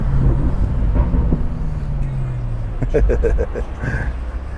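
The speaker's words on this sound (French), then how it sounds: "Si je fais un downshift." A BMW M5 or X6M engine's pitch sweeps down through a downshift, followed by a quick run of rhythmic burbles from the aftermarket exhaust, with a voice partly heard over it.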